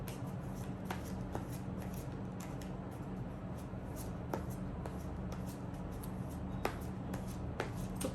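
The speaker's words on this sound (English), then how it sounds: "just shuffle the cards for you" Tarot cards riffle and slide in a steady shuffle close by, with soft crisp snaps of cards hitting together at irregular intervals over a low hum.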